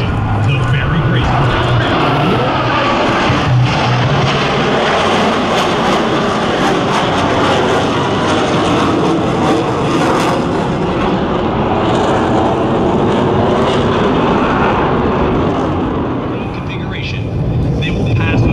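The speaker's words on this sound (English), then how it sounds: "Each pilot will perform an individual brake turn and exit the flight line in a separate direction." US Navy Blue Angels jets roar continuously and loudly during brake turns at an airshow, a dense, sustained jet rumble with a public-address announcer talking over it throughout.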